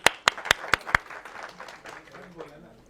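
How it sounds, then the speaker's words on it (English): Five quick, sharp claps ring out in a steady rhythm from one nearby pair of hands at an audience event, then fade into quieter room sound with faint murmuring. "Round of applause for Maheen."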